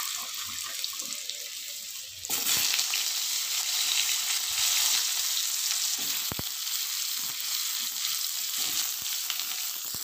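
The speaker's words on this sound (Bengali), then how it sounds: "দেখো তোমরা কড়াই আজ কাঠের জালে বাঁধাকপি তরকারি রান্না করছি" Potatoes fry in a wok over a wood fire for a cabbage curry, a hissing sizzle that swells after a quieter start and holds steady, with a few sharp clicks of a utensil against the pan.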